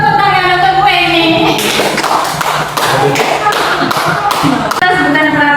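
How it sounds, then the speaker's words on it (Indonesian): A classroom group breaks into hand clapping right after a voice finishes speaking, a short run of sharp, close claps that trails off with talk returning near the end. "Tepuk tangan untuk gue ini."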